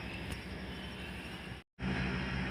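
Taksaka luxury passenger train at Cibatu station, a steady mechanical hum and rumble that cuts out briefly near the end before resuming, with no voices.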